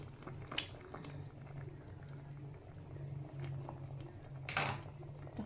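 Milkfish soup with leafy vegetables boiling in a pot, a soft, continuous low bubbling with a faint hum, quiet and close, broken by a couple of brief clinks and no voices.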